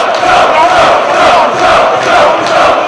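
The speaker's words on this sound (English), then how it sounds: "The crowd urging Joe to get back to his feet" Wrestling crowd at an ROH show roaring and chanting steadily as Samoa Joe lies down in the ring during his match with Homicide, a loud, dense, continuous arena din.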